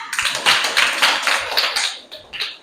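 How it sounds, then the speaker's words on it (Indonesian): An audience claps for a presenting group at a teacher training session, a dense burst of hand claps lasting a few seconds with uneven pulses of louder clapping. "Tepuk tangan untuk kelompok 2."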